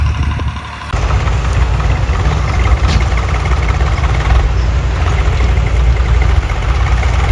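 A New Holland 3630 4WD tractor idles nearby at a wheat harvest, a loud steady low engine rumble that kicks in after a brief quieter moment and holds throughout.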